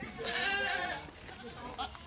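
A goat at a goat show gives one long wavering bleat, fairly close, followed by quieter background noise and faint voices.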